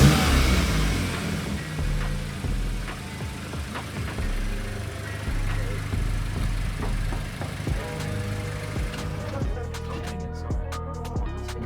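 A stage 1 tuned car, fitted with cheap aftermarket parts, idles with a steady low engine rumble close by, with occasional brief revs and background noise.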